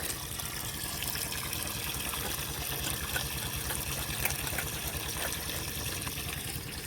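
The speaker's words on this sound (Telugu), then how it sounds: "కుళాయి నీళ్ళు బాగా నీళ్ళు పోయి ఆపేస్తా" Steady running water from a tap while cut fish is washed, a continuous broadband rush with a faint splashing texture throughout, close and moderately loud with no talking.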